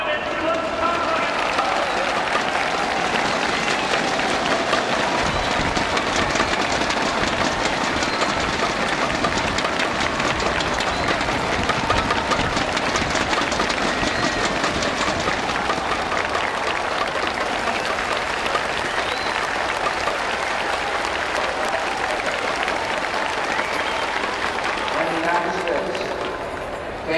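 Loud, sustained audience applause welcoming President George W. Bush, a dense wash of clapping and crowd noise running unbroken for nearly half a minute.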